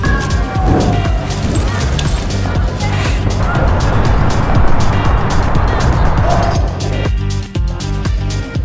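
A Porsche Taycan Cross Turismo electric car drives by with a steady, loud road and motion noise that fills the whole stretch, broken by a brief dip near the end.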